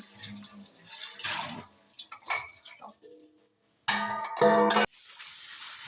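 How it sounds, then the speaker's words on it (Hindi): Used utensils are washed in a home kitchen under a running tap, with splashing water in uneven bursts, clinks and brief pauses, close by and without speech. "जो जो बर्तन मैं इस्तेमाल कर रही हूँ साथ साथ धोती जा रही हूँ"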